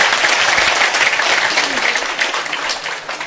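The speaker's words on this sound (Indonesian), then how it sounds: "Tepuk tangan semuanya, tepuk tangan semuanya." Loud, dense applause from a large crowd at an Islamic cultural gathering with Cak Nun and Kyai Kanjeng, continuous clapping filling the space with a faint murmur of voices beneath.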